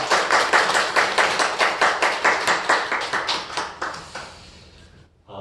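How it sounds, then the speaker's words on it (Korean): A Korean church congregation at Sunday worship claps in steady unison, sharp rhythmic beats filling the room for about five seconds before stopping abruptly. "우리 하나님께 우리 감사와 영광의 박수 올려드리겠습니다."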